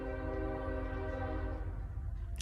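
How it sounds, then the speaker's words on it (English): A passing train sounds a long, steady horn that holds a sustained harmonic chord for most of the stretch and then fades away toward the end. It is fairly faint and distant, with no talk over it. "My train is passing"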